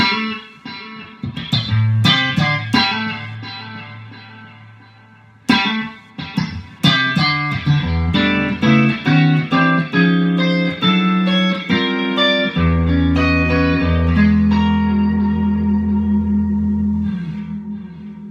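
Clean electric guitar notes and chords ring out with a spacious reverb tail from a Neunaber Immerse reverb pedal in the amp's effects loop, with a pause partway through, then sustained playing over a held low note.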